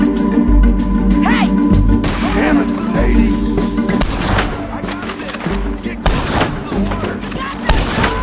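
Gunfire in Red Dead Redemption 2: loud, booming shots and thuds break out repeatedly over a dense, rumbling backdrop, with voices talking through it.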